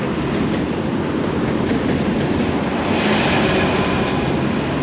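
A large electric commuter train rolls steadily past near the beach at Lazarevskoye, a loud, continuous broadband rumble with faint wheel clatter throughout, no voices.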